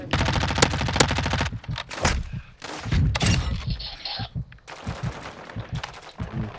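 Dense bursts of automatic gunfire and scattered single shots in a Call of Duty match, with a tank nearby, loud and close, crackling in rapid rhythmic volleys with brief pauses between exchanges.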